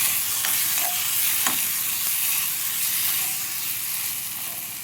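Onions with garam masala powder are being stirred in a frying pan. The sizzling hiss is steady and close, and a few scraping clicks of the spoon come through. No one speaks.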